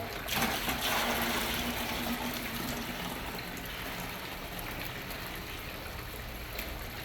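Water poured off a gold prospecting pan of paydirt in a garage, a soft steady trickling and splashing, faint and continuous after a slightly louder start.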